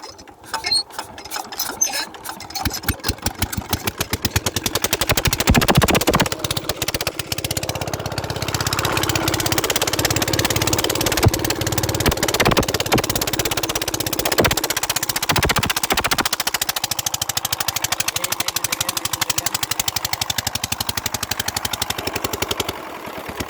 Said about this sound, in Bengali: টিউবওয়েলে এভাবে চাপ দিতে হবে, নয়তো স্টার্ট হবে না।